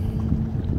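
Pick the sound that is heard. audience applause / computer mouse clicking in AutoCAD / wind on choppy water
wind on choppy water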